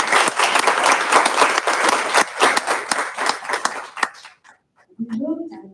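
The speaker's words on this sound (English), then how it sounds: "Let's give her another round of applause." An audience claps in dense, sustained applause that cuts off abruptly, followed by a brief quiet and then a voice beginning to speak.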